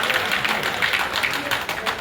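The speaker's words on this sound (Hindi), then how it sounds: "भाई, तालियों में कंजूसी कर रहे हैं हम।" An audience claps at a BJP political workshop in Bhiwani, a dense, steady patter of many hands filling the room, with a voice faintly underneath.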